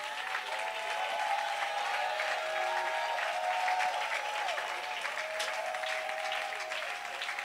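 A church congregation applauds and cheers in praise during a sermon, a sustained, moderately distant wash of clapping with scattered voices calling out, lasting throughout.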